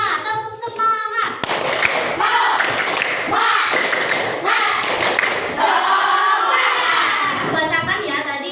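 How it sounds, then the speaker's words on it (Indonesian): A classroom of children performs a tepuk semangat clapping chant: loud, close rhythmic claps and thumps mixed with shouted group chanting. "tepuk tangan dulu yuk biar kita semangat. Tepuk semangat."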